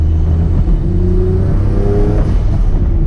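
A Noble M12 GTO 3R sports car's engine revs loudly and close, a strong low growl whose pitch sweeps up and down across the whole stretch with no voices.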